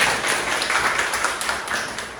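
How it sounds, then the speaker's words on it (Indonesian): Students in a classroom give a classmate a round of applause, a dense burst of many hands clapping nearby that holds steady and tapers slightly at the end. "Tepuk tangan dong buat Pak Zri"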